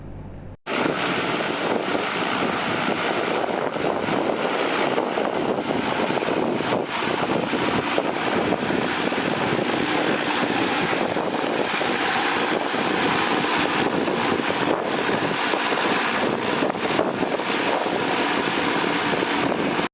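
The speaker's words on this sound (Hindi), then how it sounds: "आने वाले समय में कई और क्षेत्रों में भी एरियल सीडिंग ड्रोन के माध्यम से करवाई जा सकती है" A drone flies during aerial seeding by the Rewa forest department, giving a continuous, loud whirring engine drone mixed with wind buffeting that runs unbroken for the whole stretch.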